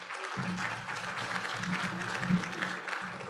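An audience at a state trust land forum on environment and natural resources applauds, a steady patter of clapping carried throughout at moderate distance.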